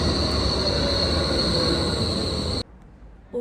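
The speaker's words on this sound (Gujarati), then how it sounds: "મારી ટ્રામ આવી ગઈ છે." A tram pulls in at a stop, a loud, steady rumble of wheels on rail with a high, sustained squeal over it. The sound cuts off abruptly near the end, leaving quieter background noise. No voices.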